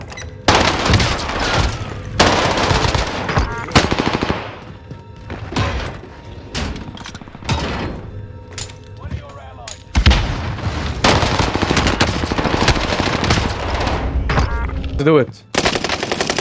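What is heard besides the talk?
gunfire in Warzone video game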